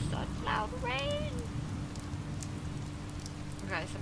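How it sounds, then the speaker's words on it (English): Loud rain in the video game Oxenfree is a constant, dense hiss. A voice speaks briefly over it now and then. "Such loud rain!"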